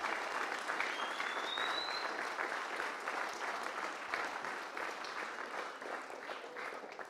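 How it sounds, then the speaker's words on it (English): An audience applauds for the meal and decorations at a fundraising event, a sustained dense round of clapping from a crowd that holds steady and slowly tapers, fairly distant with no clear talk. "can we have a huge round of applause for everyone who worked so hard on the meal and decorations"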